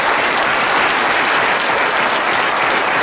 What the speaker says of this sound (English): You will clap for two hands now.